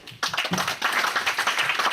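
An audience applauds after a speech by Ambassador Gutman, a burst of many hands clapping in a quick, dense patter, fairly close and steady for a couple of seconds.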